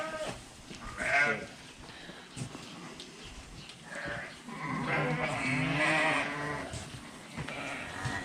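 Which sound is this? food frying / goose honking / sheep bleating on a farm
sheep bleating on a farm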